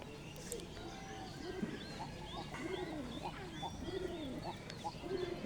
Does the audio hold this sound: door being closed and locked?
no